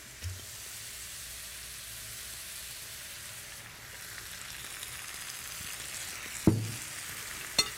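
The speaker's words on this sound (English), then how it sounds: "Now the meat, it's almost done. I'm going to add a touch of white wine." Minced meat and pancetta for a Bolognese ragù sizzle steadily in a pan right after a splash of white wine, a broad even hiss with a couple of sharp utensil clanks near the end.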